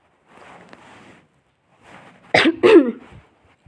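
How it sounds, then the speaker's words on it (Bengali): Two sharp, loud coughs from a person with a cold burst out near the end, following quieter murmuring sounds, close to the listener. "আমার কাশিগুলো একটু ইগনোর করবেন"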